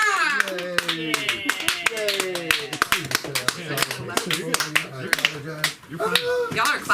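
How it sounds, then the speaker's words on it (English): Scattered, uneven clapping from a small open-mic comedy audience, sharp separate claps rather than a steady roar, mixed with voices and chatter throughout. "Y'all are clapping weird."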